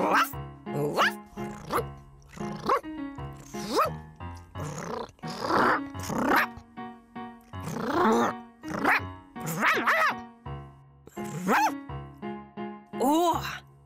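A puppy yips and whines over and over in high, rising bursts, mixed with low growly tones, close and almost continuous.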